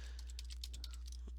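Fingers swipe across a computer keyboard, pressing every key in a quick run of soft, close clicks layered over a steady low hum.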